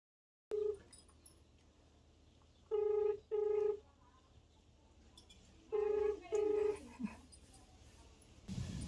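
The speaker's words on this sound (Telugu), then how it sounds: "సో ఇప్పుడైతే మా అక్కకి ఫోన్ చేద్దాం" A phone line rings out in paired electronic beeps, three bursts separated by quiet pauses, faint hiss in between.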